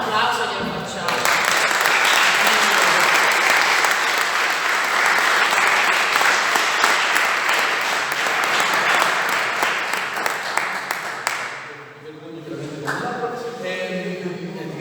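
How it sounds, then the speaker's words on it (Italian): An audience at an Italian cichlid association gathering applauds for about eleven seconds, dense sustained clapping that fades out, followed by quieter room sound. "però un applauso glielo facciamo"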